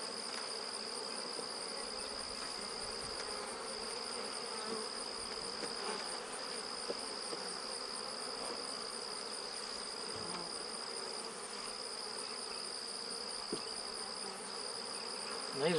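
Honeybees hum around two small five-frame medium nucleus colonies being combined, a steady close buzzing with a sustained high whine, occasional louder passes near the ear, and no talking.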